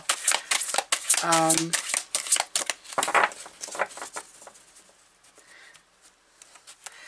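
A large deck of tarot cards shuffled by hand, with close, quick papery riffling and pattering bursts, the busiest in the first few seconds, then fading to lighter rustles. A brief voice sounds near the start.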